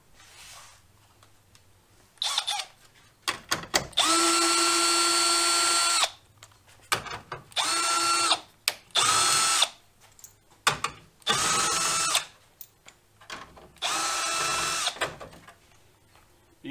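Compact Milwaukee M12 power tool running out 10 mm bolts holding the grille of a 2019 GMC, in several separate bursts of whirring: one long whine, then shorter pulses with brief pauses between, close up and loud.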